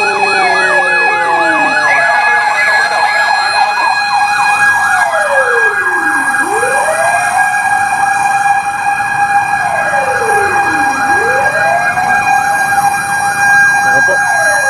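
A fire truck siren wails loudly and continuously at a large fire on Visayas Avenue in Quezon City, repeatedly sweeping up and down in long cycles, with a steady horn-like tone and some faint talk underneath.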